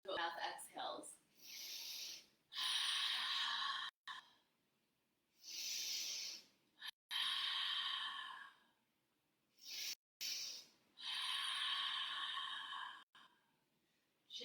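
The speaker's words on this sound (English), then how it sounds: "3 rounds of mouth exhales." Rounds of forceful open-mouth exhales during a yoga power flow class, breathy hissing bursts of a few seconds each separated by short pauses, close and fairly loud.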